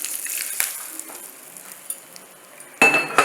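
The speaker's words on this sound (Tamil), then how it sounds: "இப்போ கொஞ்சம் கருவேப்பிலை போட்டுக்கணும்" Curry leaves dropped into hot oil already tempered with mustard seeds and asafoetida give a low, quiet sizzle, then erupt into a loud, crackling spatter near the end.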